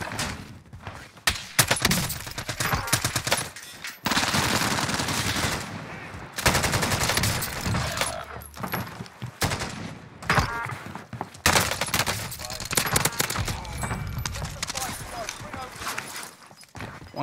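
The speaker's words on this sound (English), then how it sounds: "why are you shooting at me, bro? Stop shooting at me." Gunfire in the Warzone video game, with bursts of automatic shots and single cracks coming in uneven clusters amid pauses, while someone talks over much of the action.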